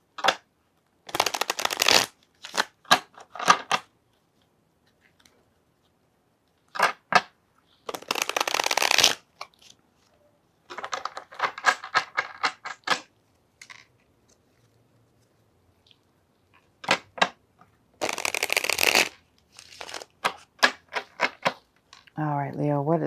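Tarot cards are shuffled in repeated quick riffling bursts separated by silences, close and crisp, with one softer flutter of cards toward the end.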